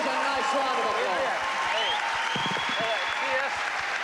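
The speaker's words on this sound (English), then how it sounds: "Give both boys a nice round of applause" A crowd at a boxing match applauds loudly and continuously, the dense clapping overlaid by an announcer's voice over the public address.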